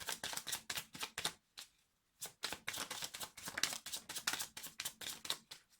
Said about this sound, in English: I'm going to do 3 more shuffles after this.